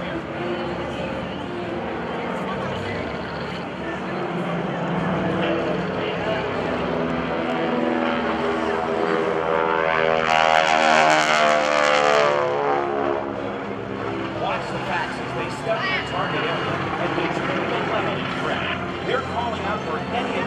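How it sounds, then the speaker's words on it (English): Two forward air controller propeller spotter planes drone overhead at a military base airshow, a loud sustained engine roar that swells and fades as they pass under continuous announcer commentary. "These aircraft are called forward air controllers, or FACs."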